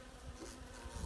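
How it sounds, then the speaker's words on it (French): Bees buzzing around a bottle trap on a hornet-protection setup, a faint continuous drone in a brief snippet. "il y a beaucoup d'abeilles dans le toit"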